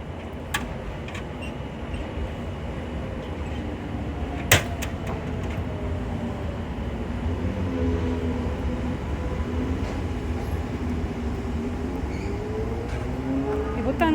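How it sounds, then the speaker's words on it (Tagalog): Train in Japan approaching and passing near a local convenience store, a low continuous rumble with rising rail tones that grows toward the end, joined by a sharp clack and faint voices. "Paparating na train."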